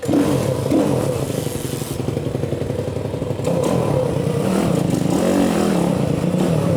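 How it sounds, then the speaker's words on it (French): A YCF Mini GP motorcycle engine started for the first time, running with a rough, loud idle and revving, with some clattering, close to the listener. "On va la mettre en route pour la première fois, les amis, parce qu'on l'a pas mis en route."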